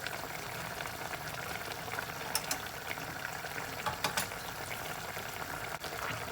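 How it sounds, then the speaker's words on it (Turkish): Green beans and tomatoes bubbling in a pot, a soft, steady rolling boil with a few brief clinks near the middle, heard close with no voices. "gördüğünüz gibi fasulyemiz kaynadı"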